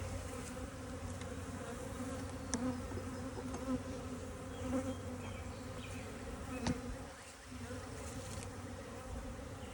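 Honeybees fill an opened spring hive with a dense, steady drone, individual bees zipping close past now and then, a faint scrape of handling under the hum.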